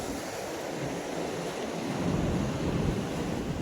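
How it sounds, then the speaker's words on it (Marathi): Steady wind blows across the microphone on a high seashore fishing spot, mixed with a constant roar of surf below, loud and unbroken, with no voices. "वारा आहे थोडा मस्त वाटतंय मित्रांनो."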